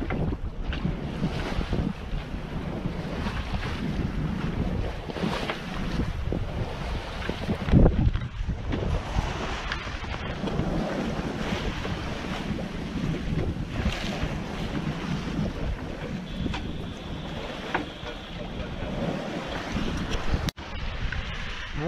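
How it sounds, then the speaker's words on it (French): A passing boat on open water, heard under steady wind buffeting the microphone and the wash of waves, with a continuous broad rushing sound throughout. "il y a un super bateau qui est en train de passer derrière moi"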